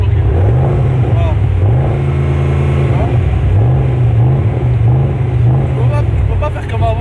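An Audi RS6 revs hard as its exhaust valves open, with several rising and falling engine sweeps, loud and close, while voices talk over it.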